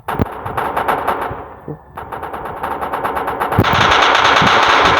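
The cameraman tower unit in Roblox Toilet Tower Defense fires loud, rapid machine-gun bursts, almost continuous, with a short pause before the fire builds into a dense stream.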